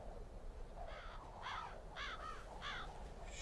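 Migratory birds give crow-like caws, about five harsh, repeated calls spaced roughly half a second apart, fairly faint over a steady background hiss.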